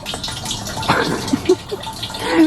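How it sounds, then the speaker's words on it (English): Water runs from a tap into a container at a gas station, a steady gushing fill with a few brief splashes and knocks, close by and moderately loud. "this takes so long to refill this one, and then I have another one"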